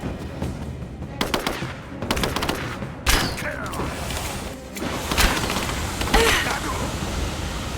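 Rapid automatic gunfire and explosions in the video game Rise of the Tomb Raider, loud and dense bursts of shots continuing throughout with brief gaps, under faint game voices.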